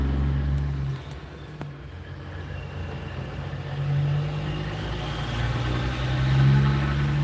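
A big Kenworth W900 truck idles at a loading dock with a low, steady diesel rumble. The engine swells slightly a couple of times, and a few faint clicks come early on.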